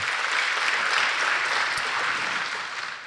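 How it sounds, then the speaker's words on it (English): A large crowd at a college 50th anniversary luncheon applauds steadily, a dense wash of clapping that holds strong throughout and starts to ease toward the end. "Let's give them a round of applause for the tremendous work that they have done."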